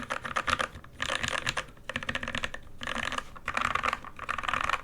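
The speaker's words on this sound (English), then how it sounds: "Let me unplug it so I can just kind of mash the keys first." Rapid mashing on a custom NK65 mechanical keyboard comes as dense bursts of clattering keystrokes with short gaps between flurries, close-up and fairly loud.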